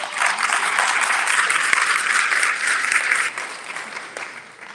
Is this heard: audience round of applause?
yes